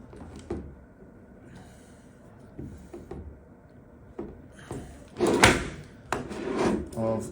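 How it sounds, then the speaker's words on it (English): Small T20 Torx screws being undone from the centre cases of a Kenrick Excalibur 2 ladder, giving soft intermittent clicks, taps and scraping handling noises close by, with a louder clatter of parts near the end and no speech. "We'll begin by removing"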